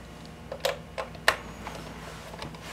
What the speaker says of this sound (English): So the first thing we're going to do is take these top 4 screws off.